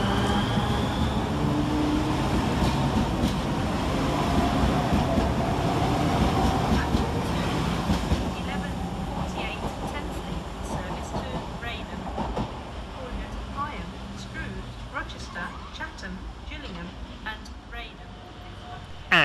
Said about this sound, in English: we see the departure of 395008, working the 11:44 Southeastern high-speed service